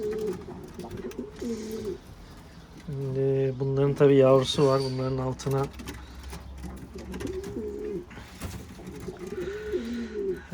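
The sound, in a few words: pigeons cooing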